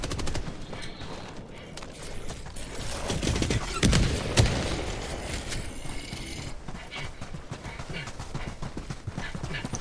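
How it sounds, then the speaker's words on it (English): Heavy machine gun fire in Helldivers 2 during an Illuminate invasion, a dense continuous stream of loud rapid shots with a louder burst midway, mixed with battle noise. "I need some extra firepower, so I'm using the HMG"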